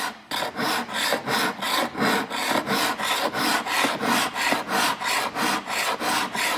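A file worked across a steel drawknife blade in steady, even rasping strokes, about two or three per second, close and clear with no talking.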